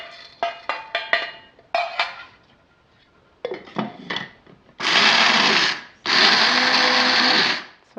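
A kitchen blender coarsely grinds coffee in two loud, sustained whirring bursts, each over a second long, after a run of sharp clinks and clatters of lids and dishes being handled.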